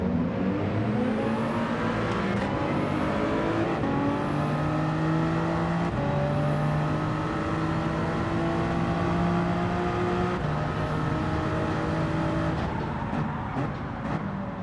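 Race car engine revving hard in Gran Turismo 7, a wild-handling car, loud and continuous with rising and falling pitch sweeps through gear changes and repeated shifts across the run.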